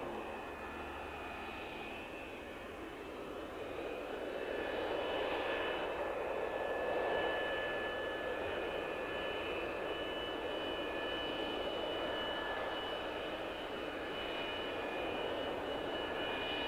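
A steady, droning jet engine roar from an F-15 Streak Eagle on a snow-covered runway holds at an even level throughout, sounding close by and unbroken, with no voices.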